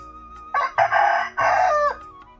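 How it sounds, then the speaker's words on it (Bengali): A Ranchi fighting rooster crows loudly and close by, one long drawn-out cock-a-doodle-doo with a rising, cracking call, then quiet. "এটার নাম হচ্ছে রাঁচি মোরগ"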